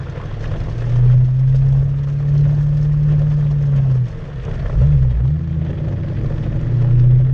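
Engine of a manual car driven by a learner in pouring rain: a loud, steady low hum that sags and wavers as the clutch is let out, then settles back to an even drone.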